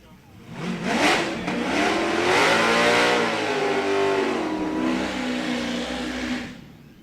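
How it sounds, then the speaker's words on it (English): An orange Dodge Hellcat drag car at a dragway lets off a big, loud nitrous oxide purge, a sustained rushing hiss that swells and holds for several seconds alongside engine revving, with a commentator talking over it. "big time nitrous oxide purge for the right-hand lane, the beautiful orange Hellcat"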